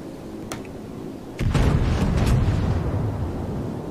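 Battleship Dunkerque firing its main turrets in World of Warships, a faint distant pop and then a heavy booming salvo with a long rumbling tail, loud and close, no talking.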